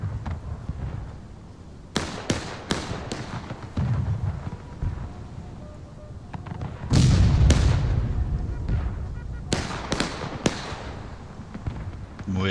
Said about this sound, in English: Artillery duel kicking off really well here